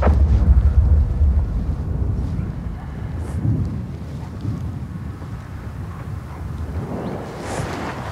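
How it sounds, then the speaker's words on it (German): Distant gunfire in a war zone: low, heavy rumbling booms roll in the distance under a windy outdoor background, faint and muffled with no clear voices. "Von welcher Seite schießen sie?"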